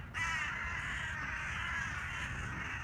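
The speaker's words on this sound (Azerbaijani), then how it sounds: "Bir de bütün qarğalar yığışıb bura" A flock of crows gathered near a house caws continuously, a dense, steady chorus of harsh calls that stays loud and close for the whole stretch, with no voices.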